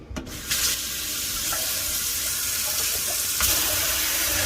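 Strawberries rinsed under a running kitchen tap, with a steady, close, full hiss of water splashing into the sink the whole way through and no talking.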